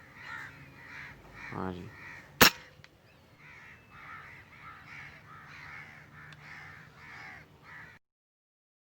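Crow caws, several in a row early on, then a sharp loud crack of a PCP airgun shot during hunting in Pakistan; someone speaks briefly and low talk continues afterward.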